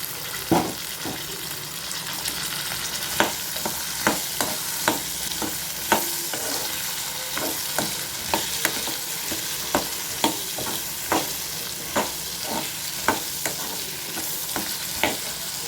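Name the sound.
frying garlic and onion in a pan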